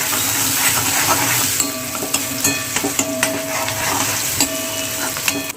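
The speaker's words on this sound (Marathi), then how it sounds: "कांदा जो आहे तो फ्राय होत आहे" Onion and curry leaves fry in hot oil in a pan with a loud, steady sizzle up close, broken by the clink and scrape of a spoon stirring at intervals.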